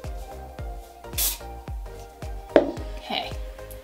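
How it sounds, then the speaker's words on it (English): Living Proof Perfect Hair Day Body Builder Hairspray is sprayed onto hair in two short hissing bursts, heard close against a backdrop of regular soft thumps and faint rustling. "I'm gonna spray more here."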